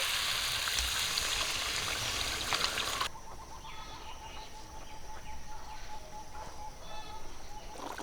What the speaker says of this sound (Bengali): আলু আর মশলা কষানো হয়ে গেছে রস করার জন্য জল দিয়ে দিচ্ছি